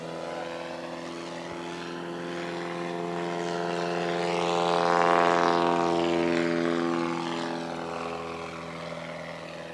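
A Badlands Traveler STOL plane with a naturally aspirated 340 engine takes off at a fly-in air show competition, its propeller drone rising to a loud peak as it passes, then fading steadily.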